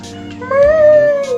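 A cat meows once, a drawn-out rising and falling call that sits close and clear over a low background hum.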